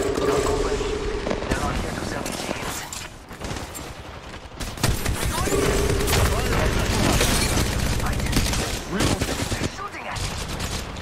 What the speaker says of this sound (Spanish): hay más disparos por allá